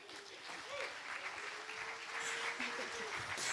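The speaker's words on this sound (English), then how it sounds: "So please give her a big round of applause." Crowd applause at a hackathon opening ceremony in Prague fills the room steadily, with faint voices and tonal sounds drifting over the clapping.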